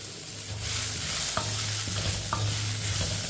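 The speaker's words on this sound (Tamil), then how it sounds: "இதையும் லைட்டாக வதக்கிக்கிறோம்." Sliced beetroot and vegetables sauté in a pan, a steady close sizzle with a few spoon scrapes and stirs and no talk.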